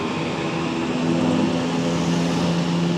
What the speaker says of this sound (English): that noise in the background is a seaplane which just landed